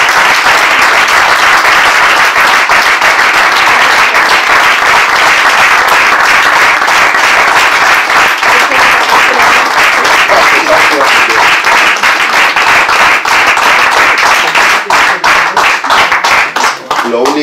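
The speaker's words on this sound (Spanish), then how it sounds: "un aplauso para ti." An audience gives long, sustained applause at a talk on militancy and trade unionism, loud and continuous hand clapping that goes on for many seconds and thins slightly toward the end.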